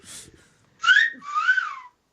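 A person whistles a few short notes, a brief chirp followed by a longer rising-and-falling whistle, clear and close with quiet gaps between.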